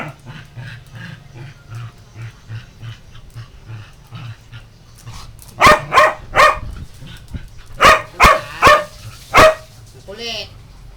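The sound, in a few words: dog barking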